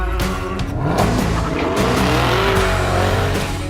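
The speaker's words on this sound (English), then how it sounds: "This is the 2018 Camaro ZL1 1LE." A 2018 Chevrolet Camaro ZL1 1LE running hard at Area27 Raceway in British Columbia, its engine loud and close, revs rising and falling through shifts while the tires squeal through a corner.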